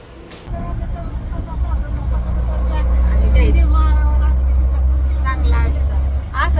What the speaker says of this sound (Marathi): आयुष्यात पहिल्यांदाच पुण्यामध्ये रिक्षामध्ये मी आणि आई बसलेलो